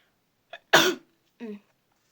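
A single short sneeze bursts out close by, preceded by a brief sniff and followed by a soft vocal sound.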